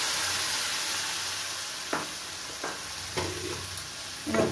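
A tomato, cashew and ginger paste hits spices already frying in a pan for vegetarian matar paneer. A steady hissing sizzle runs throughout, broken by several short, sharp stirring clicks near the end.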